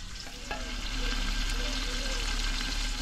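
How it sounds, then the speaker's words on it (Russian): Steady sizzling of onions and carrots frying in a pan, a continuous close crackle with faint stirring and a low hum underneath. "Все, пусть теперь вместе с лучком обжариваются."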